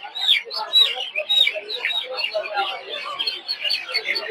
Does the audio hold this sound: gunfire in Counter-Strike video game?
no